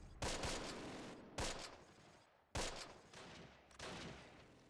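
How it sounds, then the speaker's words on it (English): Bursts of machine-gun fire in the World War II strategy game Close Combat: The Longest Day, four sharp loud volleys each trailing off into a rumbling echo, with no talking. "Where are these MGs firing from?"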